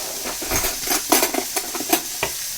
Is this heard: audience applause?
no